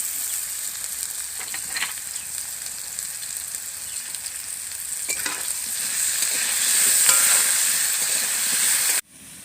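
Vegetables fry in hot oil with turmeric and salt in a pan, giving a continuous close sizzle and hiss with occasional stirring scrapes that swells louder near the end before cutting off abruptly.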